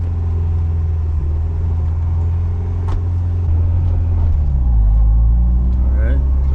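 Steady low engine drone and road rumble from a Nissan 300ZX Z32 driving in third gear, loud and close from inside the cabin, swelling slightly near the end.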